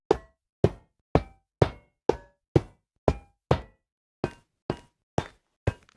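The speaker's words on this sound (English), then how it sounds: "Iron-type blocks now have new iron sounds." Minecraft iron-type blocks with their new iron sounds: a dozen crisp, close metallic knocks in an even rhythm, each with a brief ringing tail, pausing once before the last few hits.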